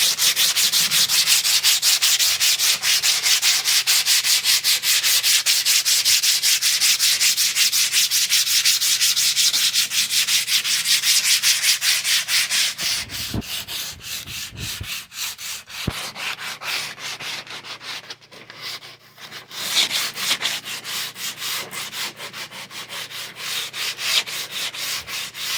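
Rapid rhythmic scratching of coarse sandpaper rubbed back and forth on birch wood, close and continuous, slowing and growing more uneven in the second half.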